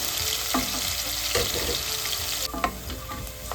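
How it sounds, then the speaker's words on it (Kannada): Onions fry in hot oil for avarekalu masala pulao, a loud steady sizzle with a few clanks of a spoon stirring the pan. "ಇದನ್ನೆಲ್ಲ ಚೆನ್ನಾಗಿ ಫ್ರೈ ಮಾಡ್ಕೊಳ್ಳೋಣ"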